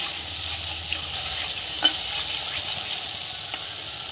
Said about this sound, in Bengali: আমরা কষাতে থাকবো, হলুদ দিয়ে কষাতে থাকবো।